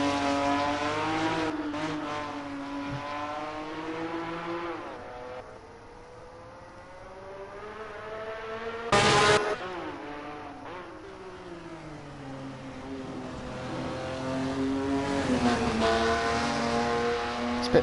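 A Ferrari sports car engine in the Assetto Corsa racing game roars through repeated rises and falls in pitch as it accelerates and shifts, with a brief sharp burst midway.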